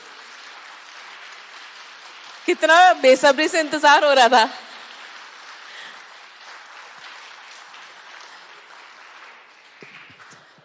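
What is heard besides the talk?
audience applause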